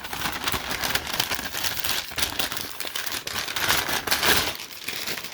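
A white paper comic-shop bag is crinkled and handled continuously up close, with dense, crackly rustling bursts that swell and fade over several seconds, no talking.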